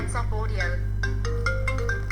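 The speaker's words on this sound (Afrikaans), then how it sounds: "Jammer hier my foon wat lui." A mobile phone plays a melodic ringtone of bright, stepped notes that repeat in a steady pattern over a constant low hum, close by and clear.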